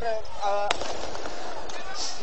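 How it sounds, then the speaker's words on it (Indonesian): A single sharp boom from a police tear gas launcher cuts through a riot in Kampung Pulo, heard among shouting voices and general crowd noise. "masih terdengar dentuman tembakan gas air mata dari aparat kepolisian dan Satpol PP"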